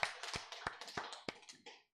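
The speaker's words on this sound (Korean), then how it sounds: "하나님께 영광을 박수 돌려드리겠습니다." A church congregation claps briefly in a quick, even rhythm of sharp, fairly faint hand claps that fade out within two seconds.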